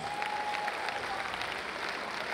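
Steady applause from a live comedy audience in Lagos, Nigeria, dense and continuous throughout, with a faint tonal whistle early on.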